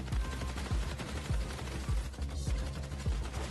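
Gunfire in a video game, a burst of regular, thumping shots at close range, roughly two per second, over a steady background of game noise.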